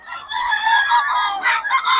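A rooster crows at a busy Bocaue tiangge market, one drawn-out call lasting about two seconds, clear and fairly close, with no voices over it.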